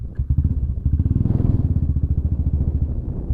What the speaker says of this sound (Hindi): ये किले को एक्सप्लोर कर रहे हैं बाइक से